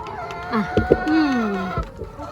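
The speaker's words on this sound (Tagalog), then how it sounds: "Ayan ang mga manok." Farm hens, some in the middle of laying eggs, cluck and squawk close by in short irregular calls, with one longer drawn-out note near the middle against a low background hum.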